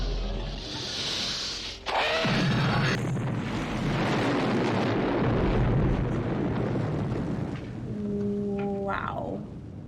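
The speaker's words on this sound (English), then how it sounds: "That's a pretty large explosion." A large explosion in the 1982 film The Thing: a sustained, roaring rumble follows a sharp onset and fills the scene for several seconds before easing under an eerie, tonal score.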